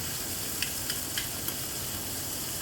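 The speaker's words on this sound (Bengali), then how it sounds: "এবার কুচনো পেঁয়াজগুলোকে আমি দিয়ে দিলাম। দিয়ে আবারও খুন্তির সাহায্যে ভালো করে নেড়ে চেড়ে সুন্দর করে সমস্ত কিছু ভেজে নিতে হবে।" Chopped onions and chillies sizzle and fry steadily in a pan for Bengali drumstick-leaf greens, with a few soft spatula scrapes and taps as they are stirred, close and continuous.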